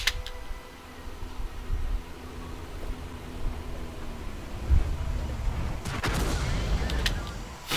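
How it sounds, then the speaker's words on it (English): Tank guns firing in a World of Tanks battle, including an S-51 artillery piece firing high-explosive shells, heavy booming shots over a constant hiss of game noise, one near the middle and a louder cluster near the end. "The S-51 fires HE"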